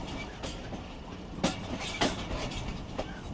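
The Rehman Baba Express, hauled by locomotive GU40 90-15, rolls along in fog with a steady rumble and periodic clicks of wheels over rail joints, heard from on board at moderate level.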